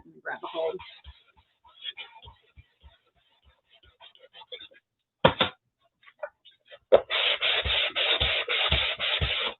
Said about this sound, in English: I'm going to sand it just so it adheres